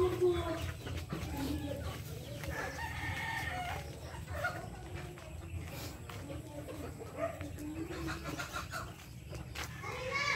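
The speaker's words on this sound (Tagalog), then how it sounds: "daghanag manok nila ni Iboy Friendship." Chickens cluck and a rooster crows amid a busy outdoor background at a family birthday gathering, with people chatting faintly at a distance.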